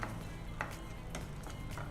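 Hibiscus leaves, curry leaves and grated coconut fry gently in a pan over medium heat, a soft continuous sizzle with a few faint stirring clicks, quiet and close with no talking.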